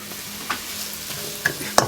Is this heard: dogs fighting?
no